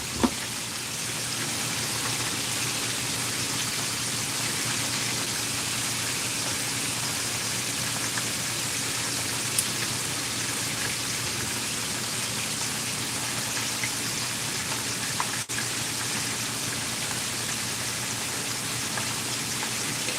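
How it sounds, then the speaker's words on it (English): Bone-in southern fried chicken frying in hot oil gives a steady, dense, rain-like sizzle and crackle that holds evenly for about twenty seconds, close and fairly loud, with no talking. "It's some frying chicken."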